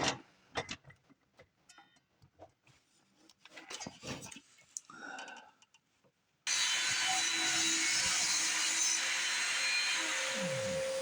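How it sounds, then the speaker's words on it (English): A saw cuts shallow dados, an eighth of an inch wide and a quarter inch deep, into wood pieces. Scattered knocks and handling taps come first, then a loud, steady, close-up cutting roar runs to the end. "Right now, I'm cutting some dados on the inside of our pieces, just the width of the blade"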